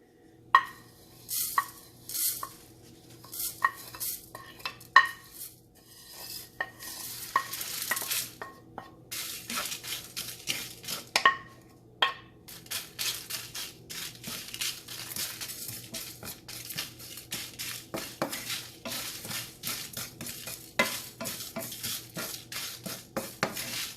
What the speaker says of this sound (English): So now the pan is hot and I am going to dry roast the whole spices.